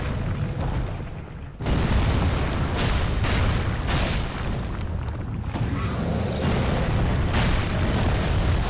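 In Dark Souls 3, a Charcoal Pine Bundle fire attack erupts in heavy, roaring booms. Loud bursts of flame rumble one after another with barely a pause for almost nine seconds.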